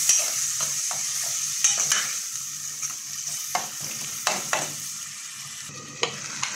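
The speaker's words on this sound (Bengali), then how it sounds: "তো এখন আমি ডালটা লাড়া দিয়ে দিব" Lentils (dal) fry in a pan while being stirred, a steady soft sizzle broken by repeated scraping strokes of the spoon at an uneven rhythm, close and fairly quiet.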